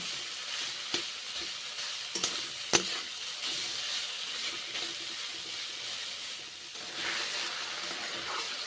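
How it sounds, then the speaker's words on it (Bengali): Pointed gourd (potol) and spices frying in a pan while being stirred, a quiet, steady hiss of sizzling oil broken by scattered utensil taps and scrapes, close by with no voices. "মশলা এবং পটল ভেজে নিচ্ছি এখন এইভাবে নেড়ে চেড়ে।"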